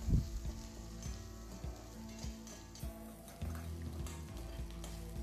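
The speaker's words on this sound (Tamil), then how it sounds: "இஞ்சியோட பச்சை வாசம் போகிற வரைக்கும் நம்ம அதை வணக்கினா போதும்" Ginger sautéing in hot oil in a pan with green chillies and curry leaves, a steady close sizzle and crackle with occasional stirring scrapes throughout.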